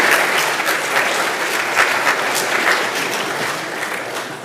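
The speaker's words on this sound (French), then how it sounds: "je vous demande de les applaudir chaleureusement" Sustained applause from a sizable audience, many hands clapping steadily at an even volume throughout, with no speech.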